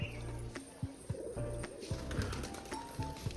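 Jag Rajshahi pigeons at their cage coo in low, throaty, repeated bursts at a steady rhythm, close and fairly quiet, with light background noise.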